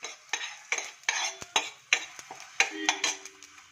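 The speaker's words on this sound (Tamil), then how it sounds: "அப்புறம் ஜீரகம், மிளகு, இது ரெண்டுத்தையும் ஃப்ரை பண்ணிவிட்டு" Cumin and black pepper frying in a pan while a spoon stirs them, with repeated sharp scraping clinks of metal on the pan in an uneven rhythm over a light sizzle, close up and without talk.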